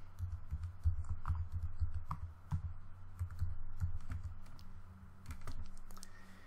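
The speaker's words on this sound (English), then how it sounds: "So I'll put in my email address. And then my password." Rapid, irregular clicking of computer keys as an email address and password are typed, close and continuous over a low steady hum with no talking.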